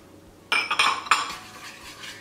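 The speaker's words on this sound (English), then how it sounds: "just kind of stir that together so the butter gets nice and melted and the sugar is dissolved" A utensil scrapes and clinks against a pan while stirring melted butter, sugar and cinnamon for fried apple turnover filling, a few sharp metallic scrapes in quick succession, then softer stirring.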